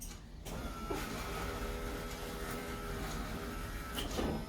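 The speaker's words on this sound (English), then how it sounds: "For this project, I used a car window motor and actuator because they're cheap and readily available." A car window motor and actuator drive a DIY automatic screen door closer, giving a steady electric whir with a faint hum and brief clicks at the start and end, fairly quiet and alone.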